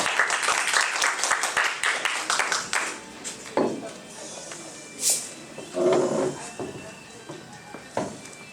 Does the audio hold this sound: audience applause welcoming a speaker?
yes